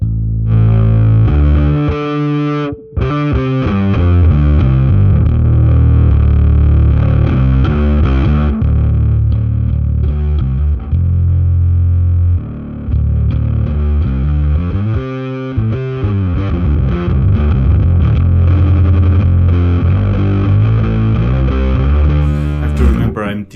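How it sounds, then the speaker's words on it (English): An electric bass detuned to drop D plays heavy, gritty riffs through a blended distortion effect, loud and close, with a couple of brief pauses. "We can add in that distorted sound."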